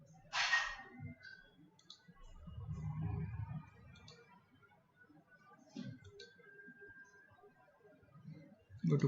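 Mouse clicks while working in structural design software on a tall building model, a few soft, sparse clicks under quiet room noise with brief bits of speech.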